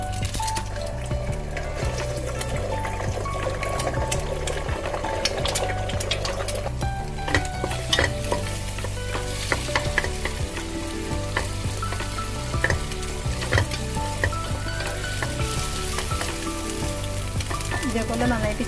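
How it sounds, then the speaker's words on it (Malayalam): Beaten egg poured into two tablespoons of hot oil in a pan, sizzling loudly and crackling continuously as it fries and is stirred, with scrape sounds over a steady low hum. "ഇപ്പോൾ നമുക്ക് മുട്ട ഒഴിച്ചു കൊടുക്കാം"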